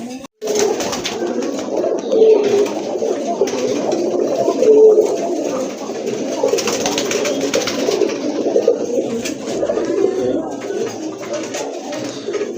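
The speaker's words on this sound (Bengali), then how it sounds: "দেখেন বাঘা সিলভারের ভিতরে এক জোড়া কবুতর আছে" Pigeons coo steadily from inside a cage, a pair of Giribaz birds among others, their low rolling calls layered close and continuous with a faint murmur of other birds behind.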